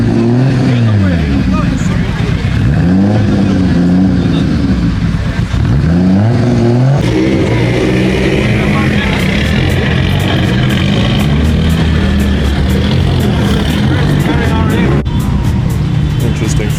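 A blown-up Toyota Celica's engine revs loudly and repeatedly, the pitch rising and falling in surges up close, with voices talking over the engine noise.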